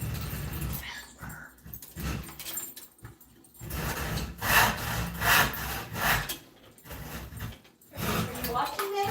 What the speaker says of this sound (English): you're going to just hear me cutting some wood in the background